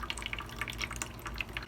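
Water trickles and drips into freshly repotted soil around a Philodendron 'Tiger Tooth', a steady run of soft close drips and splashes over a low background hum.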